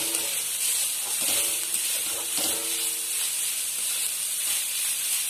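Vada pav potato filling seasoned with turmeric and salt sautéing in a pan, a steady broad hiss and sizzle running the whole time with faint stirring scrapes near the start, fairly loud and close, no voices.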